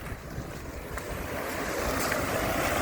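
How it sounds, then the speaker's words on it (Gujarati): Continuous rushing water of the Banas River flowing like a stream nearby, with a broad steady roar and some wind buffeting the microphone. "ઝરણા જેવો અવાજ આવે"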